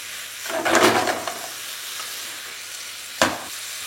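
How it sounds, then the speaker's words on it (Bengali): Broccoli being stirred in a pan with soy sauce, black pepper and chilli flakes: a soft continuous sizzle broken by a loud scraping stir near the start and another short, sharp scrape later, close by. "চেষ্টা করি সব কিছুকে ভালো করে একবার মিশিয়ে নিন।"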